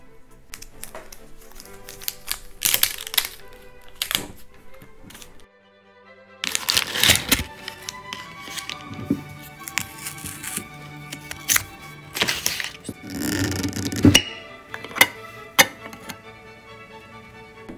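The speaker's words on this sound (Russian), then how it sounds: "Ну что, давайте откроем баночку и, наконец, попробуем, какое же оно на вкус." A twist-off lid comes off a jar of walnut jam with a scatter of sharp clicks and cracks, close and fairly quiet, with short louder bursts of rattling between quieter pauses.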